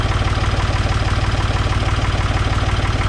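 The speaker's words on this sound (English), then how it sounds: "it's been idling here for a minute, letting everything warm up, get up to temperature" A Ford 420 backhoe's engine idles while warming up, a steady, loud, evenly pulsing chug that holds unchanged throughout with no voices.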